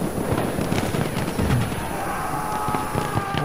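Gunfire in the video game Battlefield 1: dense, continuous bursts of shots and rattling fire, loud and steady throughout.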